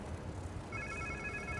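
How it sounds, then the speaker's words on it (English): An electronic phone ring trills in over a steady low background hum, a repeating high tone that holds through the second half, in the video game Spider-Man 2. "Sounds like somebody's phone."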